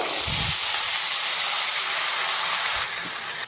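Vegetables fried on high flame in a pan with garlic, chilli, onion, turmeric and Kashmiri chilli powder for healthy chowmein, a steady close sizzling hiss running throughout with a few low knocks.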